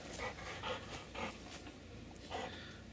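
A dog breathes in quick, rhythmic panting bursts close by, about six huffs over a few seconds, with no voices.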